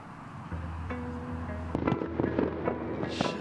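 New Year's Eve fireworks pop and crackle at a distance, heard from inside a narrowboat over a steady background hum, with a burst of sharper bangs toward the end.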